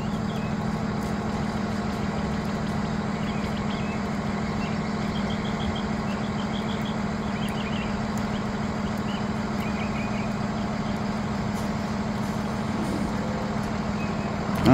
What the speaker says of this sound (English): There's the bus.